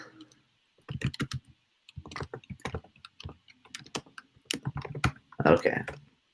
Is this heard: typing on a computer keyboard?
yes